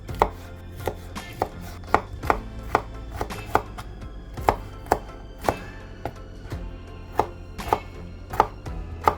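Broccoli stem and florets are chopped into bite-sized pieces, each knife stroke landing as a sharp, close knock on the board in a steady, evenly spaced rhythm of about a dozen cuts.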